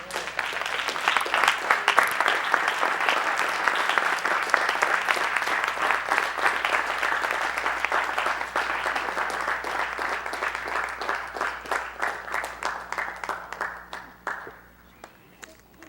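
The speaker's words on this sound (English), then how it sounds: "Give Mr. Yahuwah a hand clap." An audience breaks into sustained applause for a speaker, many hands clapping together at steady volume before thinning into scattered claps and fading out near the end.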